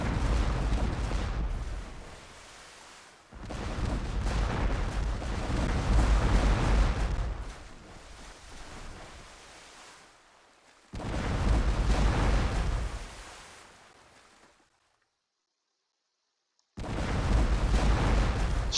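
Ship cannon fire from a sailing-ship naval battle in Port Royale 2, loud booming broadside volleys in several long rumbling bursts separated by brief gaps and one silent pause, with no talk.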